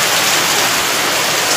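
Steady afternoon rain falls on the surfaces around a balcony, a dense, even hiss that is loud and close for the whole short stretch with no voices.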